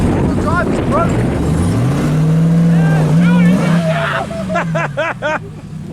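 A truck engine keeps running during a car-crushing job, a loud close rumble that swells and revs under excited voices talking throughout.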